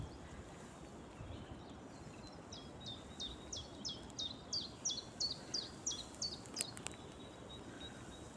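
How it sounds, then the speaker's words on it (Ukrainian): Songbirds calling in a spring forest during a mushroom-hunting outing, a repeated series of short, fairly faint chirps over a steady background hiss of wind. "Як гарно в лісі пташки співають."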